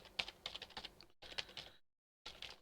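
Bursts of rapid, light computer keyboard typing, fairly close and quiet, in two runs separated by brief silences, with no talking.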